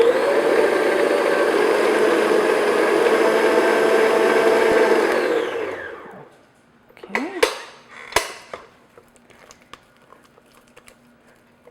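An electric mixer whirs steadily through maple frosting for about six seconds, then winds down and stops, followed by a few clacks of the beaters against the bowl.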